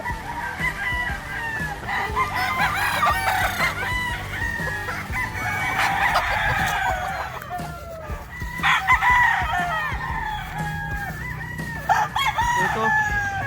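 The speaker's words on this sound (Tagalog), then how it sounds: "Ito naman yung aming mga tornado domes. So, mga napakagandang mga manok ng mga to." Several tornado dome stags crow repeatedly in drawn-out calls, with scattered clucks from other chickens nearby on a farm.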